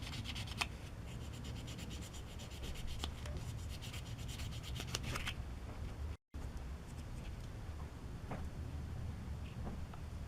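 Parts of a Tamiya 1/12 scale Yamaha YZR M1 model are sanded by hand through successive grits, giving a soft, steady rubbing scrape close by with a brief pause midway and no talk.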